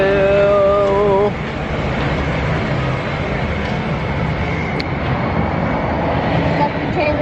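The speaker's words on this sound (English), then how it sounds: "Monorail!" An Epcot monorail train at Walt Disney World rolls by at night as a steady, broad rumble with no rise or fall. People talk over it, a distinct call early on, then quieter voices through the rest.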